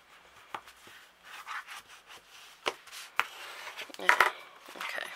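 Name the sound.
burnishing paper pages of a mini album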